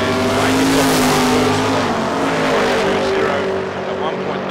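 Drag racing cars launch off the start line at a Friday night drag meet at Calder Park. Loud, roaring engines hold throughout, with a commentator talking over them.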